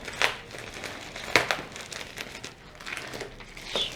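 Light crinkling plastic packaging from an AliExpress parcel being handled and opened nearby, soft rustling with a few sharper crackles spaced across the moment.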